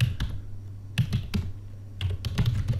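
Keys are typed on a computer keyboard while a search is entered in a permissions report tool, producing quick irregular clicking taps in short bursts, close and clear over a low steady hum.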